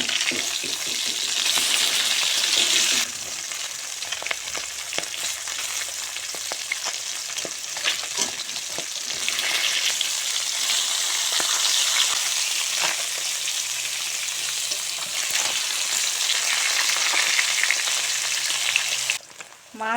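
Turmeric-and-salt coated fish frying in mustard oil in a wok, a continuous close sizzle and crackle with occasional stirring scrapes and bursts, no talking.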